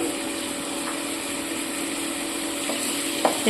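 Ginger-garlic paste and ground turmeric sizzle steadily in oil for a Bengali mutton curry, a constant broadband fry with a few faint clinks of stirring near the end.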